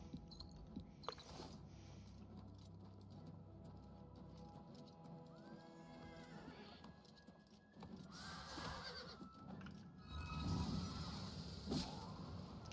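A horse whinnies and neighs in The Elder Scrolls IV: Oblivion Remastered, its calls rising over steady game ambience, followed by louder stretches of hoof clatter and movement.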